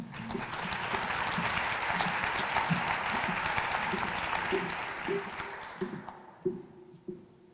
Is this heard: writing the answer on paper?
no